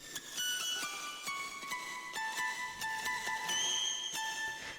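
Layered lead guitar lines for a song, with the parts pitched up one and two octaves, giving thin, high, glittery notes that change in quick steps, played fairly quietly with no voices.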